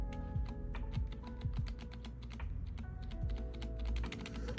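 Keys clack on a modded thrift store gaming keyboard, a close, rapid run of crisp clicks and thocks in an irregular typing rhythm, with occasional heavier strikes from larger stabilized keys.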